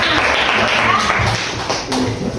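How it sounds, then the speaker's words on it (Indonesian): Classroom applause for a student: a dense burst of many hands clapping close by, running steadily and tapering slightly near the end. "Tepuk tangan untuk Cunya"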